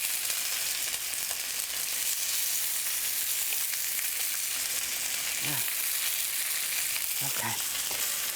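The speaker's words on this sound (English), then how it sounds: "I'm going to just saute some of the lemon." Lemon sautéing in a hot pan during an Italian chicken dinner cook: a loud, constant sizzle with a few brief stirring scrapes, and a voice briefly speaks over it near the end.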